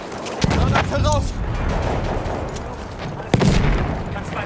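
Battlefield 1 domination match at Fort de Vaux, a World War I setting: a grenade blast and gunfire cracks, two sharp loud hits with scattered shots and battle din between, while German-speaking soldiers shout over the fighting.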